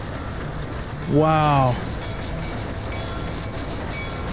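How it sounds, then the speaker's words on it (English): A train rolling toward an army camp in the video game Red Dead Redemption, a steady rumble and clatter of rail cars throughout, with a brief voice exclaiming once over it. "Ride the train to the army camp."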